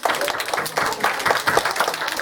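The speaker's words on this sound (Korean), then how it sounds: "우리 환영의 박수 한번 치겠습니다." A church congregation at a Korean Sunday service claps to welcome newcomers, a short burst of moderately loud, dense applause from many hands.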